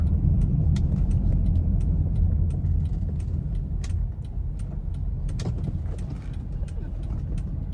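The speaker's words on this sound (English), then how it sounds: "Also encountering a little bit of road noise in this car" Road noise inside a moving Honda City i-VTEC, a heavy low rumble that stays steady throughout, with faint ticks and clicks on top.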